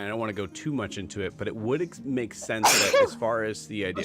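A single sharp sneeze bursts out midway through steady conversational talk, close to the microphone, briefly overpowering the voice before speech resumes.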